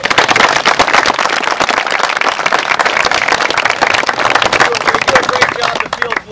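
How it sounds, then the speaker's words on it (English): Enthusiastic crowd applause at a little league scoreboard ceremony, dense sustained clapping loud and close throughout, tapering slightly near the end. "So I just give the Park and Rec a big round of applause."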